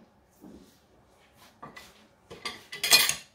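Fish is mixed with a pinch of salt, coriander leaves and pepper in a pan or bowl, giving soft scattered scrapes and clinks of utensil on dish that build into a louder clatter at the end.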